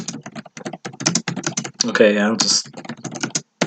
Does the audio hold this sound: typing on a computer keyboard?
yes